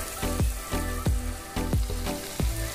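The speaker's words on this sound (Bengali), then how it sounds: "এবার ঢাকনাটা তুলে একটু নেড়ে দিচ্ছি যাতে মশলাটা নিচে লেগে না যায়।" Masala for a spicy Bengali-style Katla fish head curry hisses steadily in a pan over a medium flame, with a spatula scraping and stirring it at a regular rhythm of about three strokes per second, close up.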